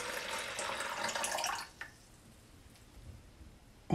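Water trickles and runs from a leaking 3D-printed vase filled with water, a fairly loud rushing flow that cuts off abruptly, leaving faint drips and quiet room noise behind.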